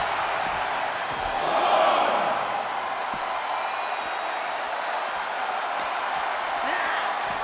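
Steady arena crowd noise from a WWE 2K24 wrestling match, a continuous roar of cheering and applause that swells briefly early on, with commentary voices talking over it throughout.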